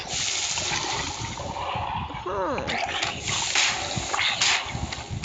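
A Minecraft character falls into water with a sharp splash and gurgle, set against dense game noise, with a brief voice-like sweep in the middle of the clip.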